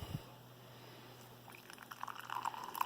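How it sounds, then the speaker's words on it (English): Hot water is poured into a mug for instant coffee, a soft trickle that swells into a louder splashing pour near the end, close by with no talking. "let's get some hot water in here"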